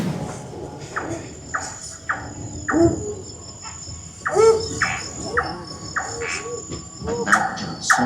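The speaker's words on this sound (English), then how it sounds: "All set against a chorus of crickets." A chorus of crickets chirps in regular, pulsing bursts, with several insects overlapping in a dense nighttime texture in a forest at Singapore's Mandai Wildlife Reserve.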